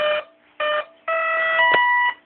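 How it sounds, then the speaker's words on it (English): An Exceed RC Concept X jet gives a loud electronic beep sequence on being plugged in: two short tones, then a longer sustained tone that shifts pitch near the end. "plug this in, and it will give you a reassuring beep"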